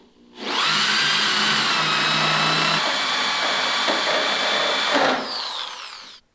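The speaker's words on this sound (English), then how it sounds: "I'm going to drill corresponding holes in here and here." A power drill bores holes in a 1971 Pontiac GTO body panel, a loud, close, steady high whine that spins up, holds for about four and a half seconds with a pitch dip midway, then winds down.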